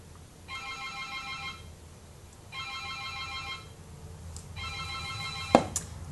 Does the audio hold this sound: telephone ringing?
yes